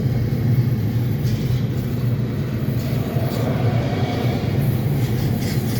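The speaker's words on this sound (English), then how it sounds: "I've never seen anything that, never seen a train that close before" A Union Pacific grain train passes very close beside a highway, giving a continuous heavy rumble of wheels and cars at a steady, loud level throughout.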